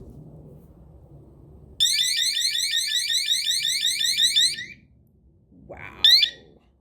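Govee water sensor alarm rated at 105 decibels, blaring as a loud, rapid warbling electronic tone for about three seconds, then a brief second burst after a pause, with faint background rustle.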